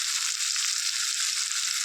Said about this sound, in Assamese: আলু, জলকীয়া, নহৰু ভাজিছোঁ